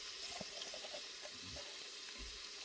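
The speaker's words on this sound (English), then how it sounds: "we're going to throw our onion in there. I love that sound" Quiet, steady sizzle of onion frying in a pot, a soft hiss with faint crackles and occasional stirring clinks.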